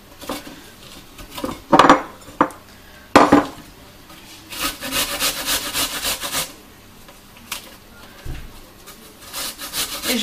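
A washed apple being grated with a blade gives rough, rasping scrapes in irregular strokes, with some short sharp bursts and some longer runs of quick rubbing. The sound is close and fairly loud, with no talking.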